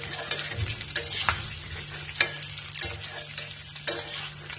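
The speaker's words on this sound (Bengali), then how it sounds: "আলুটা একটু ভেজে তুলে নিই" Boiled potatoes fry and sizzle steadily in a pan, with a spoon stirring and scraping in irregular clicks throughout; close and moderately loud, with no talking.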